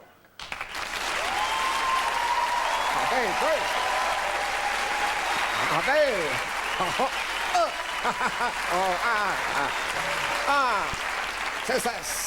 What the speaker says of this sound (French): Ça vous dérangerait-tu de m'applaudir un petit peu, voir?